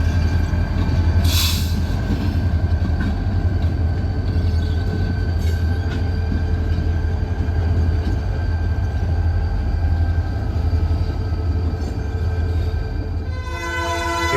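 A freight train of steel coil cars returning from a steel mill rolls past with steady wheel rumble and rail clatter, a horn blast sounding early on, continuous and loud with no talk.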